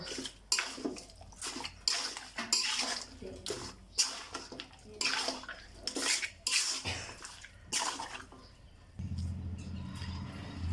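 Raw beef is mixed with salt by hand in a bowl, giving repeated wet squelching and slapping strokes in an uneven rhythm, with clinks against the bowl.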